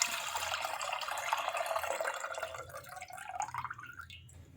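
Milk poured into a pan on the stove for a custard dessert, a soft, close trickling and splashing stream that tapers off toward the end, fairly quiet and with no talking.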